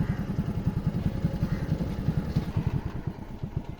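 A motorcycle engine at a fish point in Malik Pur, Pakistan, chugging in a fast, regular thumping rhythm, close and fairly steady in loudness, with no talking.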